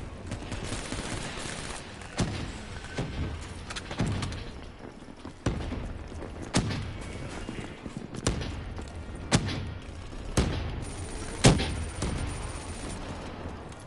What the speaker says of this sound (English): Damn, big explosions.